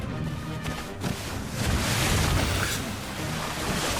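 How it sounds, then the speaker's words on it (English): Ocean waves from a Star Wars Skeleton Crew episode wash in a continuous broadband rush with a swelling surge midway, steady and fairly quiet, with wind-like noise and no speech. "Some good water simulation."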